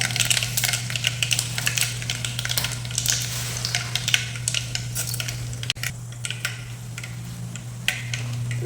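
Mustard seeds and pepper crackle and sizzle in hot oil for a garlic kulambu, a steady, close frying hiss with dense ticking pops throughout, briefly cut near the middle before resuming.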